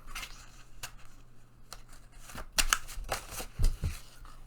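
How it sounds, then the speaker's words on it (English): Scissors cut open a flap on a file folder for a lunch-bag journal, a few quick close snips and paper rustles spaced irregularly over a quiet room. "Line up our dots. Make the line. Cut this flap open."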